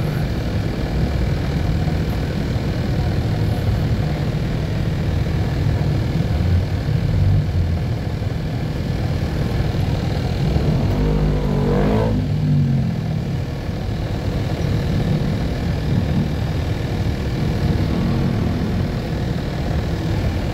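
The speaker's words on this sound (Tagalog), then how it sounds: "Zona ni Marcos, sobrang traffic." Heavy road traffic in a city, a continuous low rumble of engines with one vehicle passing close midway, loud and steady with no talk.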